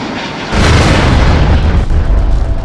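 A loud, sustained explosion roars with a deep booming rumble, heard after a plane skidded at Baramati airport; a sudden onset builds into continuous heavy noise with no voices.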